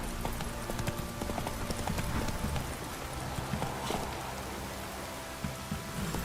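Roach, a horse in The Witcher 3, trots along with a steady, close clip-clop of hooves that runs throughout, over a soft rain-like hiss.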